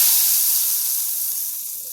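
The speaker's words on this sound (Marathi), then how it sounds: "ही फोडणी आता वर ओतून देणार आहे" Hot chilli tempering, oil with a little red chilli powder, poured over Rajasthani dal gives a steady, bright sizzle that fades slowly over two seconds, heard alone with no talk.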